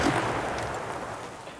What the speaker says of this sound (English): So if I shoot these, you'll see what happens. It starts burning, and after a few seconds it will explode.